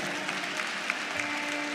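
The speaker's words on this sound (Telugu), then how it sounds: "చప్పట్లు కొట్టాలి." Audience applause at a church gathering, a brief burst of steady, dense clapping from a crowd at moderate distance.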